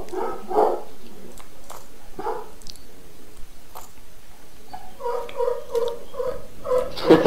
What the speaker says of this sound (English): Is that your dog, Tiger?